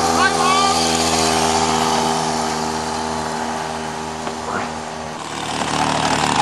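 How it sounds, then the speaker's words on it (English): A scooter speeds past, its engine whine swelling near and fading, with a brief quieter dip before the motor noise rises again; voices talk over it. "Another drive-by at high speed."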